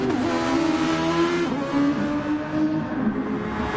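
A Super Formula race car, a Toyota- or Honda-powered open-wheeler close to an F1 car, runs in a racing video game, its high-pitched engine droning loudly and steadily with slight pitch shifts as it revs.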